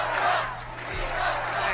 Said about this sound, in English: People cheering, we love Trump.